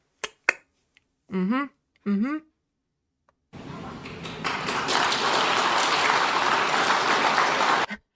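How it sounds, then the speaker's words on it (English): After a speech, an audience breaks into sustained applause: several seconds of dense clapping from a crowd, preceded by a few isolated snaps and brief talking. "I guess we should clap, huh?"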